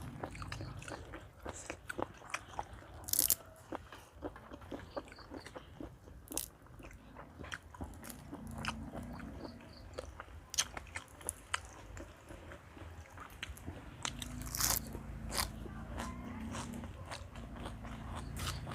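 Crunchy grilled tiny cuttlefish and squid tentacles, eaten with spicy papaya salad outdoors beside a pond, are bitten and chewed close to the mic. Sharp crunches and wet squishes repeat irregularly throughout, with no talking.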